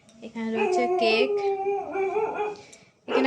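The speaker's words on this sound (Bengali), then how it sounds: "আর পেছনে এত কুকুর ঘেউ ঘেউ করছে," Several dogs bark and howl in the background during a home Christmas vlog, with drawn-out howling tones and a voice talking over them for most of the clip.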